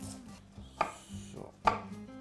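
Onion being chopped on a board with a knife, a few sparse, crisp knocks spaced unevenly, close and fairly quiet, with no talk.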